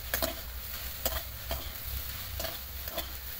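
Greens and lightly fried onions stir-fry in oil in a pan, a steady close sizzle broken by several sharp scrapes and knocks of a spatula against the pan.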